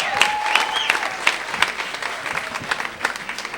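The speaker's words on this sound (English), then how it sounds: "Please put your hands together" Audience applause welcoming a comedian onto the stage at a stand-up show, a steady wash of clapping hands with a few whoops, sustained and fairly loud throughout with no speech over it.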